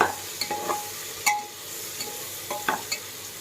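Spices with turmeric and salt frying in a pot for bisibele bath, a quiet steady sizzle with several sharp scraping stirs of a spoon against the metal, close by with no talk.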